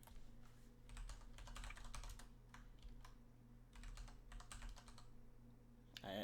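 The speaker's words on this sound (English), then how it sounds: "I tried typing Warframe and Warcraft at the same time" Bursts of typing on a computer keyboard: quick clatters of keystrokes come in short runs separated by pauses, fairly close, quiet and with no voices.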